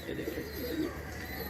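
Pigeons of a home-bred flying pair coo in a soft, continuous low murmur, heard near and alone with no talk over it.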